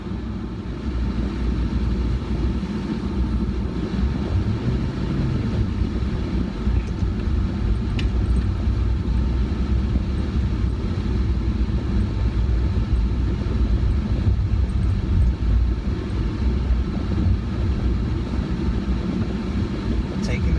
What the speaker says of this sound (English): Now let's take the Fiat 500 out on the road.